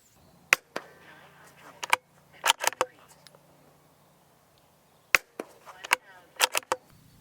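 Sharp shots from an air rifle and a .22 rimfire fired over an FX Pocket Chronograph V2, about a dozen crisp cracks in irregular clusters with short quiet gaps between them, fairly close.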